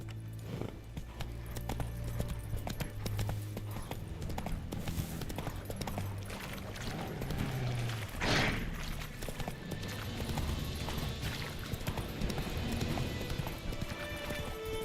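Roach the horse galloping in The Witcher 3, steady clip-clopping hooves running continuously with game ambience and a brief whoosh midway.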